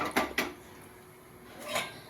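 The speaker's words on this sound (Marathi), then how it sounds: "आता आपण कुकरला लावून घेऊ गॅस चालू केलेला आहे" A few sharp metallic clanks of a pressure cooker being set down on a gas stove, two quick knocks then another a moment later, close by in a quiet room.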